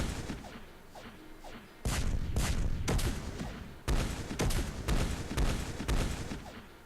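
Bombs drop on a planet during a Master of Orion space strategy battle, landing as a series of heavy booming impacts in uneven bursts over a low rumbling bed.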